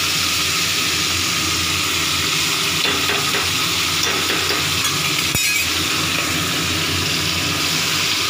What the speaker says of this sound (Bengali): এখন খুব ভালো করে কষা হবে।